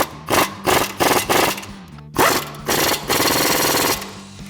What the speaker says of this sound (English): Then you can grab your 17mm swivel socket,